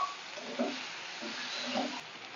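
Soybean chunks and potato fry in spices in a pan, a soft steady sizzle with a few faint stirring scrapes, close and quiet with no speech.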